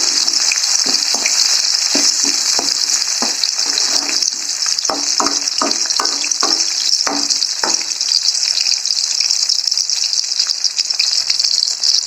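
Onions fry in a pan with a loud, continuous sizzle, joined by a run of crisp spatula taps and scrapes during the first half before the hiss carries on alone.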